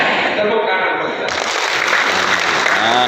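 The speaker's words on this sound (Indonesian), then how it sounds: "Tepuk tangan buat kita." Crowd applause at a political rally, clapping mixed with voices and cheering, fairly loud and continuous, with a shift in sound partway through.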